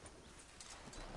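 A horse in the video game Red Dead Redemption 2 makes clip-clopping hoofbeats with a faint whinny, heard quietly and briefly over a dense background.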